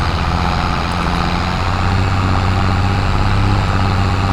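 A tractor engine in the Farming Simulator 22 video game drones steadily at a low, heavy pitch, working hard while harvesting a potato field, loud and continuous with no talk.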